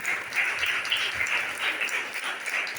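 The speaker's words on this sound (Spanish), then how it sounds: "Un aplauso para estos hombres fuertes" Applause from a church congregation honouring the men during a Father's Day service, a steady wash of clapping at moderate level that holds evenly throughout without any talk.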